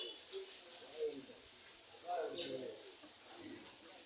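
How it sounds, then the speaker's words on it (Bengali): Pigeons or doves gather to feed in large numbers, giving soft coos and wing flutters at moderate distance, faint over a quiet background. "দেখেন কি হারে পাখিগুলো আসে খেতে আমার এখানে।"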